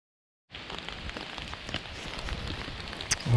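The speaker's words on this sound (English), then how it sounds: "so it's been raining for like 45 minutes, probably." Rain begins abruptly after a brief silence and then patters steadily on the roof and surroundings of a cabin with a wood stove, a close, even hiss with scattered louder drops.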